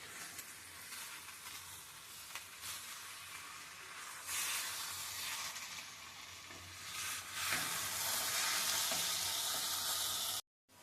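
Egg drops in a tomato and fenugreek leaf curry sizzle steadily in a pan as they are gently stirred, the frying hiss swelling louder midway and stopping abruptly at the end.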